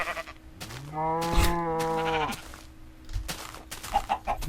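A single Minecraft sheep bleats loudly with a wavering, nasal cry, followed by faint clicks and small bursts of background noise.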